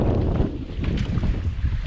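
Strong wind gusting across the sea aboard an aluminium boat, a steady loud roar buffeting the microphone throughout with no speech.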